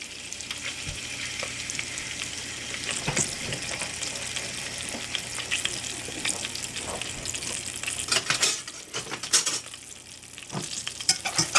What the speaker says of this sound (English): That oil really needs to be bubbling.